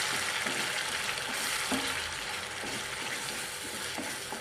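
Ground masala sautéing in a pan for matar paneer, a steady soft sizzle with occasional scrapes and clinks of a spoon stirring, heard close and alone.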